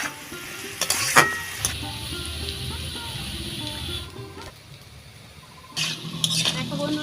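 Turmeric, salt and dried chilli powder sizzle steadily in hot oil in a pan while a spoon stirs and scrapes against the metal, with scraping bursts and a quieter stretch in between.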